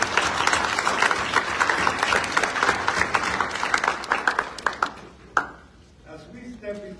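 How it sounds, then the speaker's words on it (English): Audience applause at a spring graduation ceremony for a Lincoln Tech campus in Philadelphia, a dense crowd of clapping that thins out over the last two seconds into scattered claps and a few voices. "So let's give them a round of applause."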